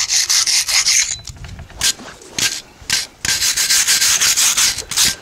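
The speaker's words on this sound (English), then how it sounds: "You just getting the loose rust off." Wire brush scrubbing loose rust and muck off steel chain harrows, a run of rapid rasping strokes close by, pausing briefly between bursts.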